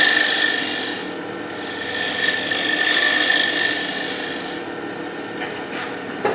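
Thick wood-turning scraper cutting a half bowl on a lathe, making a steady scraping rasp that runs through the whole stretch and swells and eases as the tool moves along the wood, with no talk.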